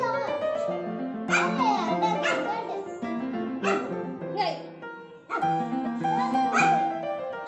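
A pet dog barks and yips repeatedly indoors, close and loud in short uneven bursts, with whimpering between barks.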